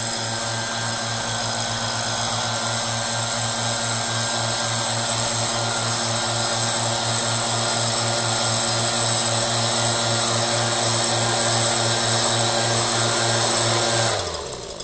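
Stihl BG 86C and Husqvarna 525BX handheld petrol leaf blowers run side by side, a loud, steady two-stroke whine over a broad airy rush that holds unbroken at close range, then cuts off abruptly near the end.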